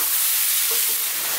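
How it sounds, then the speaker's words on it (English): Ground beef fries in a pan for a meat sauce, stirred and tossed almost constantly, giving a close, steady sizzle with soft scraping and no talk. "4 minutes, throwing it around in the pan, moving it about pretty much all the time now"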